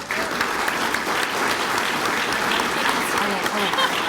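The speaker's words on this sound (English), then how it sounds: "How about a huge round of applause for all of our honorees here this evening?" A large audience at an evening Citizen of the Year awards ceremony applauds its honorees, steady dense clapping filling the room without a break, with a few crowd voices faintly mixed in.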